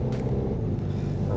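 A Hyundai Kona N with a newly installed intercooler rumbles at low speed, a steady low engine drone close by, with no voices.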